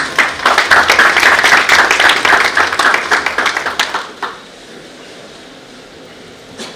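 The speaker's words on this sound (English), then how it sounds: "Little applause, audience." Brief applause at a leadership awards ceremony in Nashik, with loud, rapid clapping for about four seconds that tapers off into quiet room tone.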